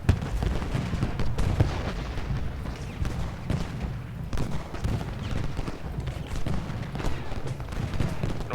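Infantry musket volleys in the Ultimate General Gettysburg battle game form a constant crackle of scattered shots over a low rumbling battle din, with no lulls.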